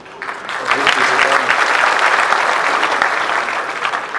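Audience applause for guest Dr. James Mwangi of Equity Bank at a Kenyan county gathering, loud sustained crowd clapping rising quickly and holding for several seconds.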